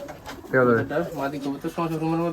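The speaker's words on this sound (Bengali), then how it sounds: "এটা হলো কফি কালার কফি কালার মাদি কবুতর" A coffee-coloured female Giribaz pigeon coos close by, with low throaty rolling calls in two bursts and a brief break between them.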